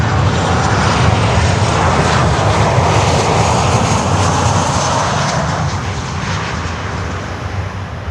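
An Alaska Airlines Boeing 737-900 arriving from Portland, Oregon, at Miami airport, its engines a loud, steady broadband roar that fills the whole stretch with no letup and no voices.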